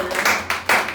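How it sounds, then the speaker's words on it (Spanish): A church congregation applauds, a brief burst of dense clapping in two quick swells, close and loud. "Denle un aplauso a Cristo"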